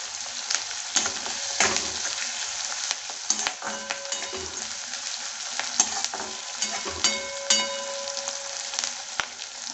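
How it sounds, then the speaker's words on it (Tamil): Onion sautéing in a pan for a Tamil yam mash dish, a steady close sizzle and fry with occasional stirring scrapes and clinks throughout, no voices. "கொஞ்சம் நேரம் வதக்கிக்கிறோங்க. அதை வெங்காயம் லேசாக வதங்கட்டும்."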